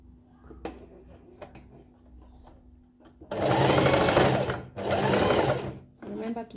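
A sewing machine back stitches a V neckline, running in two steady close bursts with a brief stop between, then a shorter run, after quiet handling sounds and a low hum.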